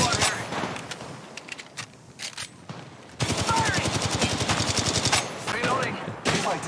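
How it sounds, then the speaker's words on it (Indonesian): Gunfire in the mobile battle-royale game Apex Legends Mobile, bursts of rapid automatic shots that thin out briefly and then return as sustained dense fire, loud and close, with a game sound-effect texture. "Ada nembak gua."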